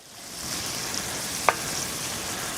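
Garlic shrimp sizzles in a pan over high heat on a small cooker, a steady, bright frying hiss that holds evenly throughout, broken by one brief sharp click midway.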